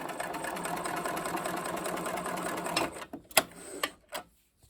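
A sewing machine straight-stitches down the side seam of a fabric bucket hat, running in a steady close whir for about three seconds, then stopping with a few clicks and knocks before silence.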